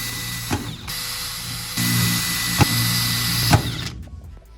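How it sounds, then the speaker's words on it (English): A power drill works on Vauxhall Corsa car parts in a garage, a steady motor whine running throughout with brief sharp clicks and one louder surge midway, no talking. "Let's get a drill."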